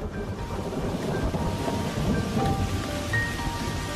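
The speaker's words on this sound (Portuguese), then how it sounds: "Essa é uma tempestade enorme." A huge thunderstorm in the arrival of the rainy season: steady heavy rain pours down, with a deep continuous rumble of thunder beneath it, loud and enveloping.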